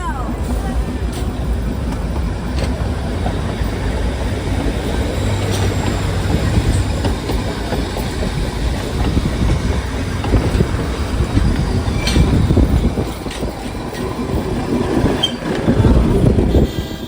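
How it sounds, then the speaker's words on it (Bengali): The Darjeeling toy train rolls past near Kurseong with a steady clattering rumble and rattling wheels, loud and close, while people talk nearby. "টয় ট্রেন যাচ্ছে"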